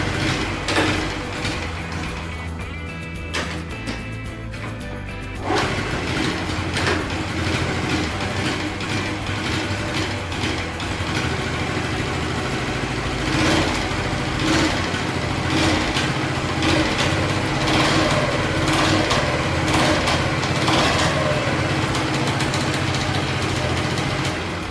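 A Honda Chaly motorcycle engine runs throughout, a loud, steady small-engine drone with rattling, ratchet-like mechanical clatter layered on top, close by.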